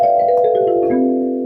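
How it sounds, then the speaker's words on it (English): A kalimba bells keyboard patch plays bright, bell-like tones that step between notes and then sustain smoothly, loud and close with no talking. "there it was, kalimba bells"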